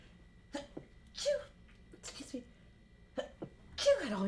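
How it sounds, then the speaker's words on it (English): A person sneezes in a quiet room: a series of short, sharp bursts with breathy intakes spaced across the moment, close and fairly loud, with a couple of vocal exclamations mixed in. "I have to sneeze."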